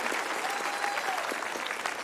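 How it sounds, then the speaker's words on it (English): A graduation audience claps steadily at a California campus ceremony, a dense, moderately distant wash of applause filling the whole stretch without a break. "Let's give them a round of applause."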